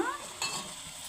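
A soft, steady sizzling hiss of a tempering with green chilies, chili powder and garlic frying in hot oil in a pan, with a brief clatter partway through.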